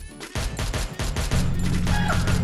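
Gunfire in the Free Fire video game: a rapid burst of loud, close shots with crashing impacts, followed by a sustained droning sound underneath.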